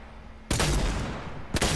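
Gunfire in a video game bursts in at once after a quiet half second, a dense, loud volley that keeps going, with a second sharp blast near the end.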